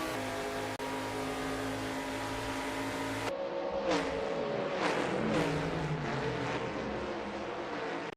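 Race cars roar through a racing video game, one engine note holding steady and then several cars sweeping past in quick succession, each rising and falling as it goes by, fairly close and loud.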